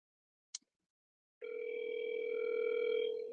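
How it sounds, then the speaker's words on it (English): After a brief click, a phone line tone starts and holds steadily for about two seconds at moderate volume while a call is placed. "I'm gonna call Mike."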